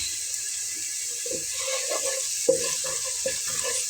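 Whole cumin seeds frying with browned onion in a pan for a Bengali masoor dal, giving a soft steady sizzle with a few stirring clinks and scrapes, close and moderately loud, with no talking.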